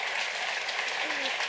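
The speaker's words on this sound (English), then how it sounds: "You're really clapping?" An audience claps steadily throughout, a dense, continuous wash of applause with no pauses and no speech over it.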